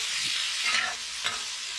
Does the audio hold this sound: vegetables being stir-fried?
yes